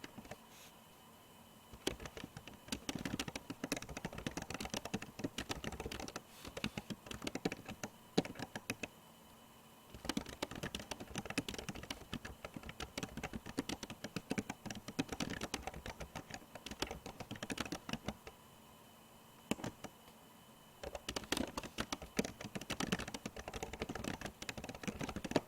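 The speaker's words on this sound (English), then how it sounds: "And then we're going to type." Steady computer keyboard typing in a word-processing session, close and moderately quiet, with irregular key clicks in bursts separated by short pauses.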